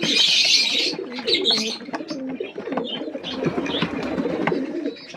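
Newly bought pigeons coo in a loft at night feeding time, a steady, fairly close stream of soft throaty coos with a few higher chirps layered through.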